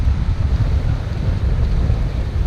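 Strong wind buffeting a microphone aboard a sailboat on the Mediterranean near Barcelona: continuous low roaring gusts, loud and close, with no voices.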